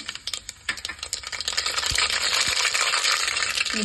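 Mustard seeds go into hot oil in a pressure cooker over a low flame, producing a loud, continuous crackling sizzle with a few sharp metallic taps at the start.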